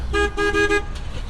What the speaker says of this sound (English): Every time I get honked at now